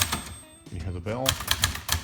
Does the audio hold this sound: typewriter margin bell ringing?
yes